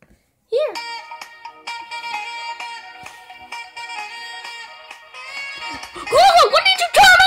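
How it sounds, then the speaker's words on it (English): Bright, tonal electronic music with sustained harmonic notes and steady rhythm plays from the start, rising louder with warbling pitch bends near the end. "I wanna hear some music"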